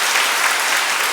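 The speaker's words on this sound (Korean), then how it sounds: "네, 박수 좀 환영하죠." A church congregation applauds a mother standing up during a service, a steady dense wash of many hands clapping at once, evenly loud throughout with no voices standing out.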